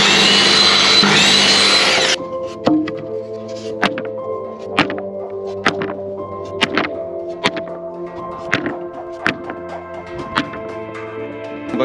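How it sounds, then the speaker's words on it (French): Wooden boards being cut to length for slats of a wooden gate: after a brief loud burst of power tool noise, a series of sharp knocks and thunks of timber being handled and tapped, close by and irregularly spaced. "Je vais couper des lames qui font 1300, donc 130 cm."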